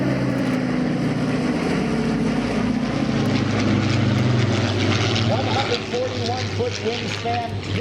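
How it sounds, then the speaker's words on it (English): Boeing B-29 Superfortress "Fifi", a WWII bomber, passes overhead at an air show. Its propeller engines give a loud, continuous droning roar while voices talk underneath. "Let's listen to Fifi. Here's the B-29 Superfortress."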